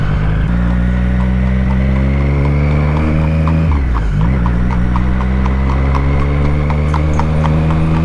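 Horse hooves clip-clop on a road, heard at a steady pace beneath the constant close drone of a Triumph Street Triple 765 motorcycle engine, which dips briefly midway.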